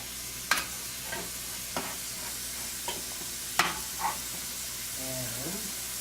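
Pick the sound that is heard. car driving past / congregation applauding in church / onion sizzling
onion sizzling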